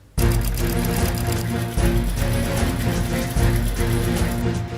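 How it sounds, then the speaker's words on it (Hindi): Sewing machines run steadily at a police lines compound in Lakhimpur Kheri, where women constables stitch face masks. The loud, dense whir carries a fast mechanical rhythm with a few brief pauses and no talking. "लखीमपुर खीरी पुलिस लाइन में इन दिनों सिलाई मशीन का ही शोर सुनाई दे रहा है।"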